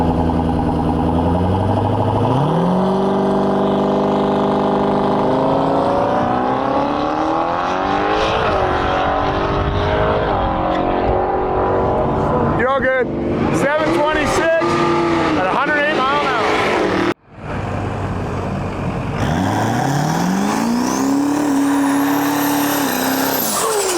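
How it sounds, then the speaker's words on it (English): A diesel car launches down the strip at a drag-and-drive event, engine revving and climbing through gears with loud roaring pitch sweeps, crowd cheers and voices mixed in, then another engine winds up near the end. "that thing sounds incredible. Good old diesel power."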